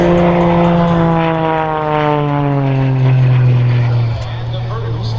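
An Extra 300 aerobatic plane with a 300-horsepower engine roars loudly past at an air show at MCAS Beaufort. Its propeller drone drops steadily in pitch, and a voice is heard over the noise.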